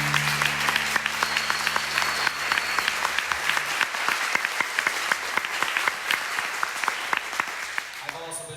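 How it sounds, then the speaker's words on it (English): Sustained audience applause for a Scottish clan group at a Newtonmore event, dense clapping filling the room at steady loudness for several seconds, with some talk and a brief tonal sound mixed in early on. "huge round of applause for the Clan McPherson"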